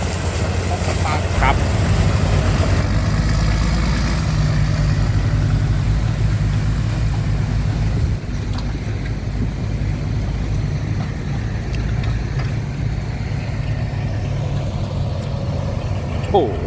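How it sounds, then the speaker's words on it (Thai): Ten-wheel trucks and a twelve-wheeler hauling sugarcane trailers rumble with a steady, loud, low engine drone, while someone talks over the noise. "สิบล้อลากลูกฮะ สามคัน อีกคันหนึ่งฮะสิบสองล้อลากลูกเหมือนกัน"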